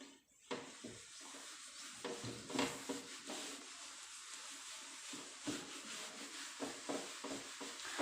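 Continuous rubbing on a board during a biology class, as a duster or hand wipes writing off, a steady scratchy swishing with short strokes over about eight seconds, faint and without talk.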